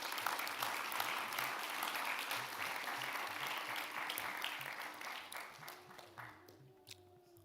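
An audience at an organization's national office bearers and active workers conference gives a round of applause: sustained, moderately faint clapping from many hands that gradually tapers off over about seven seconds.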